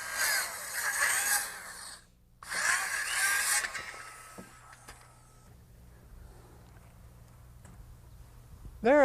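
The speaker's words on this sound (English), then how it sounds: "Just line that front edge of the saw up with the 4x4 and make your cut." A saw cuts square through a 4x4 timber during floor framing, a loud rough buzzing burst followed by a second burst after a brief pause, then fading into quieter handling noise.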